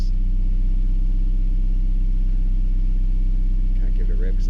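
A Toyota 86 GTS fitted with an aftermarket Australian X-Force 3-inch exhaust with 4.5-inch tips idles steadily and loudly up close, a deep constant burble throughout with a brief voice near the end.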